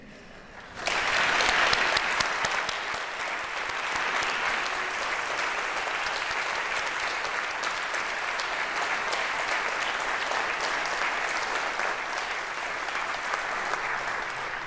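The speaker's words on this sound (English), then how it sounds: "let us have a huge round of applause for the HLF organizing team" A large audience at a conference opening ceremony bursts into applause for the organizing team; the clapping starts suddenly and holds as a dense, steady roar for nearly fifteen seconds.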